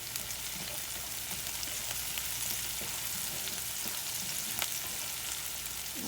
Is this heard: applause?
no